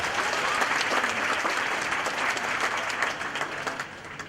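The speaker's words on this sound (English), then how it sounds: "Let's give them a round of applause." A crowd claps warmly at a college graduation ceremony, loud, dense applause that stays steady for several seconds before easing slightly near the end, with no speech over it.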